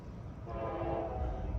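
Freight train M558 running Cincinnati to Willard, Ohio, on a Norfolk Southern or CSX line, approaching with a steady low rumble that swells after the first half second, overlaid by a sustained horn tone.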